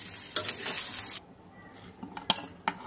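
Onion and grated coconut roasting in oil in a pan, a soft sizzle with a spatula stirring and scraping, followed by a few sharp clinks of a utensil against the pan; no talking.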